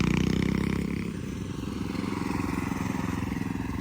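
A motorcycle engine drones steadily during a ride, with a low, rough rumble that holds close and fairly loud throughout, with no one speaking.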